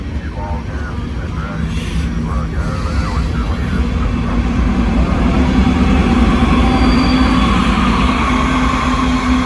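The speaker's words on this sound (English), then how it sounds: "That was a loud DPU." A freight train's distributed power unit locomotive labors up a hill, its diesel engine giving a loud, steady, deep rumble that grows slightly stronger over the span, mixed with rolling rail noise and a faint voice early on.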